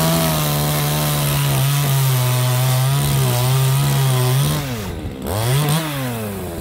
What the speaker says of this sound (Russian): Пила вообще плохо идет.